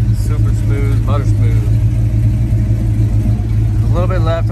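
A 1969 Pontiac GTO convertible's 400 V8 idles with a steady low rumble throughout, while a person talks over it close by.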